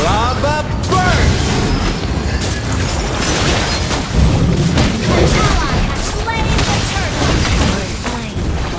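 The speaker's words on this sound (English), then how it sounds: "Lava burst!" Valir's Lava Burst ability in a mobile game, a dense roar of booming, rumbling explosions and mechanical clatter that holds loud throughout, layered with in-game voices.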